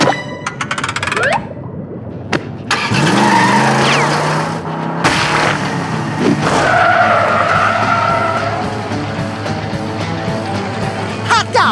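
In the SpongeBob game Creature from the Krusty Krab, a racing bed car skids with sweeping squeals and swooshes layered over steady game music and effects.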